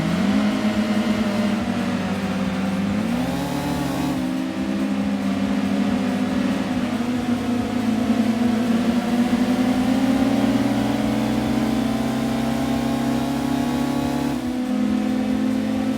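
A steady engine drone from a Mirage car in Gran Turismo 2, with rising and falling pitch like accelerating and shifting gears, loud and continuous throughout.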